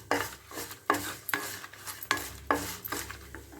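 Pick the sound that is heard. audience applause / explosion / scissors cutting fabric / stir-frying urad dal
stir-frying urad dal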